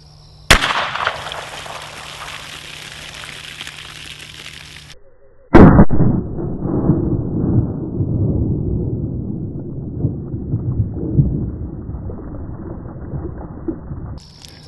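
Two loud, close gunshots from a Glock 20 pistol firing Double Tap 10mm 135gr Nosler jacketed hollow point rounds outdoors, about five seconds apart. The second shot is followed by a lingering rumble and noise.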